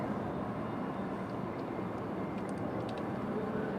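Airplane departing Raleigh-Durham airport, a steady broad roar of jet engines heard from a distance with a few faint higher chirps over it.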